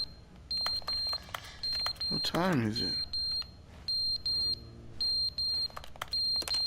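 A fire alarm in The Stanley Parable beeps in repeated high, evenly spaced bursts throughout, loud and steady, while a person talks briefly partway through.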